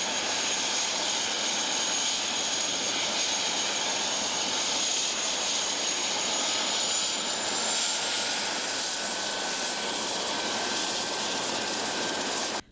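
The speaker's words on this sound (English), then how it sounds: "The U.S. Coast Guard helicopter landed in the middle of Lovely Bay" A U.S. Coast Guard helicopter comes in to land over Lovely Bay, its engine and rotor roar filling the whole clip at a steady, loud level, with a rising whine on top and no talk.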